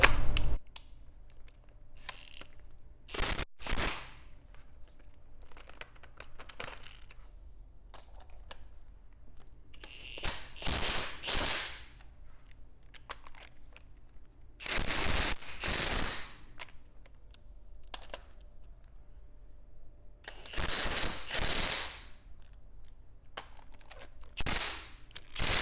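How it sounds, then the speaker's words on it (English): Four nuts on a T100 low-pressure diaphragm are tightened crisscross with a ratcheting tool, heard as several separate bursts of quick metallic clicking and rattling, close and fairly loud, with quiet pauses between them. "Now we're going to tighten those 4 nuts in a crisscross fashion to tighten up this gap."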